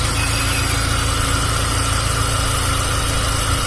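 A rebuilt Honda Civic Genio engine idles steadily after assembly, a constant close-up hum with a fine mechanical whine and no change in pace.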